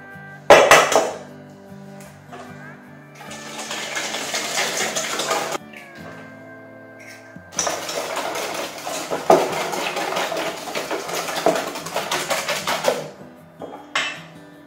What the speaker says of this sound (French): en mélangeant le beurre fondu avec le sucre